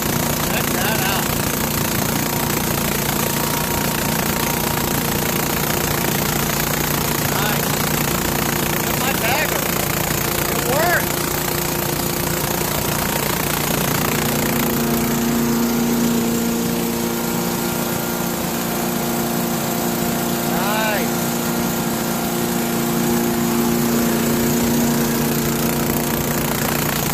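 A Craftsman 5HP Tecumseh engine on a grass and leaf vacuum chipper blower runs steadily, a loud, close, continuous small-engine drone with a buzzing tone and no pauses.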